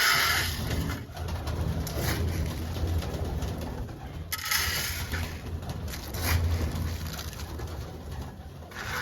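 Hungry pigeons coo repeatedly nearby, soft throaty warbles overlapping in a steady stream against a constant background hum.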